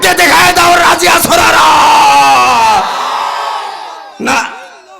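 A large crowd at a Bangladeshi religious gathering roars a loud, sustained collective takbir chant for nearly three seconds, then fades, followed by one short, sharp burst of shouting.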